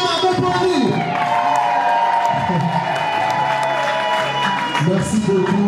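Applause fills a wedding celebration as a crowd claps steadily and loudly. Voices and background music carry through it the whole time.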